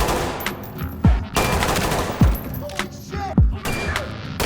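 Gunshots in the tactical shooter Ready Or Not ring out in quick pairs, three sharp booming double taps spaced across a few seconds over a dense backdrop of game noise and ambience.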